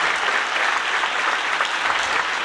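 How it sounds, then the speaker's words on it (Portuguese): A church congregation clapping together, a loud, even roar of many hands filling the space without a break, no voice standing out. "Dá uma salva de palmas se você pode no seu lugar."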